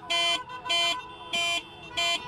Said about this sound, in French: Et on fait sonner les klaxons.